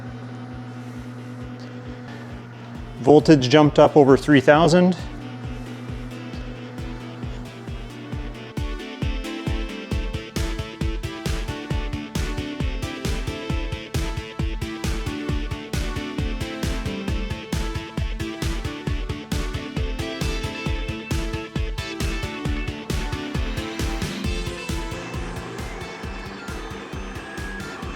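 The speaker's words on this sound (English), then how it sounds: "The kettle's on, microwave's on." A microwave oven and an electric kettle run together off an EcoFlow DELTA 3 Max Plus power station, making a steady electrical hum with rapid regular pulsing after a brief loud tonal burst early on. Someone speaks briefly.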